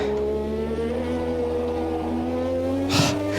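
Lotus 98T racing car engine in a racing video game, a steady high-pitched drone holding near and loud throughout, with a brief burst of tire or gear noise near the end.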